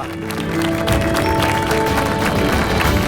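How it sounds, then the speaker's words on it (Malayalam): Audience applause rings out at a Catholic Bible quiz grand finale, a steady, dense clapping that stays loud for the whole stretch over a faint tonal hum. "വലിയൊരു കൈയടി കൊടുക്കുക."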